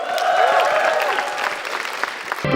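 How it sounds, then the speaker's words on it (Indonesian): Loud applause from a stand-up comedy audience, a steady wash of clapping that swells and then thins out, with a few whoops over it. "Langsung tepuk tangan saja untuk Akbar"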